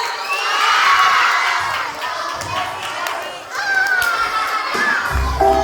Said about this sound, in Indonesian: Kasih tepuk tangan yang meriah ya teman-teman.